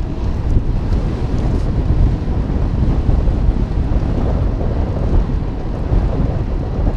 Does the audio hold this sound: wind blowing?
yes